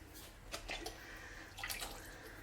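A little water is sloshed about inside a jar to rinse out leftover tomato sauce, giving a few faint, quick splashing bursts over a low kitchen hum.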